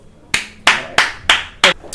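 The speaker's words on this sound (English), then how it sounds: "Let's just give a round of applause for Nathan Haas." Five separate, sharp hand claps land at a slow, uneven pace, each a bright close snap with a short tail and quiet room tone between them, rather than a full audience ovation.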